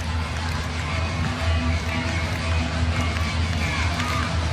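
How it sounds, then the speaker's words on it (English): A sold-out basketball arena crowd fills the space with a dense, steady roar of murmuring and cheering, loud and continuous throughout. "The sold-out crowd on the edge of their seat here today."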